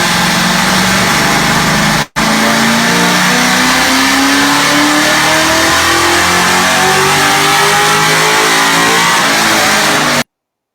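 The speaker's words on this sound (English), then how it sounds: "That's Roy's car on the dyno" A Kenny Brown SVT Cobra CSR-R race car, prepared for NASA AIX competition, revs hard on a dyno. The loud, continuous engine note climbs steadily in pitch through repeated sweeps, with a brief dropout near the start.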